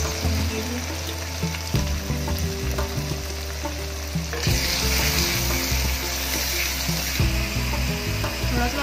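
Onion, tomato and ginger-garlic masala with spices frying in a pan for dry black chana, a steady close sizzle with occasional stirring scrapes throughout.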